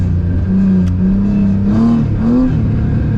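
A Nissan S14 is driven with steady throttle, and its engine drones loud and close from inside the car, its pitch rising and falling a little as it pulls.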